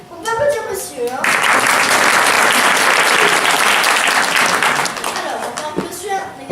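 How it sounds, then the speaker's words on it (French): An audience at an amateur youth theatre performance in La Bazoche-Gouët breaks into loud, sustained applause lasting a few seconds, after a brief stretch of voices at the start, then the clapping fades out. "On peut applaudir monsieur, hein."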